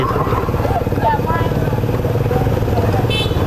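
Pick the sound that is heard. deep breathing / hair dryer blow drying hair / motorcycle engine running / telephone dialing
motorcycle engine running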